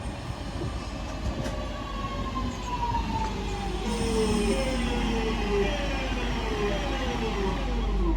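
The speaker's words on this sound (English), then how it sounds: "here comes the 1422 West Midlands Railway service to Bromsgrove via Birmingham New Street" West Midlands Railway class 323 electric train at a station on the Bromsgrove service via Birmingham New Street, a rising motor whine with gliding pitch over a loud rolling rumble that grows closer, no voices.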